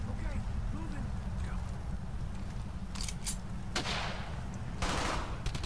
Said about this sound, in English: Quick, we have MGs from right.